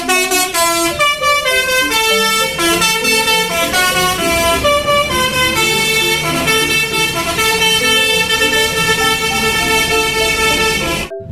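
A toy telolet bus horn plays a loud, continuous multi-tone honking melody with shifting pitches, alone and up close for about eleven seconds.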